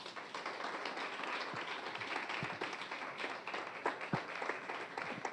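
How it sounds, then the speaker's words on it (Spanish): A church congregation applauds steadily throughout, a dense, even wash of clapping with a few sharper claps near the end, heard at moderate distance in a worship hall. "la iglesia le aplaude a él"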